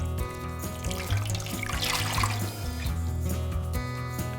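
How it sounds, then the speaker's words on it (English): Water is poured into a roasting pan holding chicken, making a soft, steady trickle and splash that runs continuously at low volume. "You can always add a little bit more water later if you need to"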